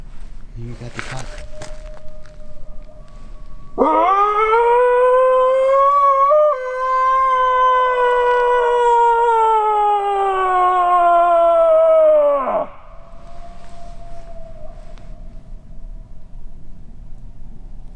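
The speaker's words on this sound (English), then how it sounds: "It's coyotes." A single long, wavering howl rises and holds for several seconds on a quiet night in the Louisiana woods, loud and near with layered harmonics, while faint rustling sounds before and after.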